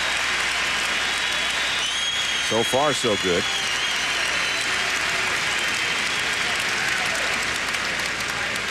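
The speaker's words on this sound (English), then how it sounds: "And he gets a nice round of applause from the sellout crowd." A sellout arena crowd at a 2003 NBA game between the Minnesota Timberwolves and Sacramento Kings applauds steadily for an injured player heading to the bench, a dense, even roar of clapping throughout with a commentator talking over it.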